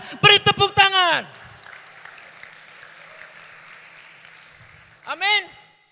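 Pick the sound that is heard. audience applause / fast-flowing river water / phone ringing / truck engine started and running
audience applause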